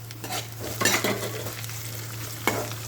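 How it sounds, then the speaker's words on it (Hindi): Rice roasting in a pan with curry leaves, steady soft sizzling with a low hum underneath and a few scraping stirs of a spoon against the pan, close and without talk. "जब आप चावल डालोगे तो चावल भी भुन जाएगा, वाइट वाइट सा हो जाएगा एकदम खिला खिला।"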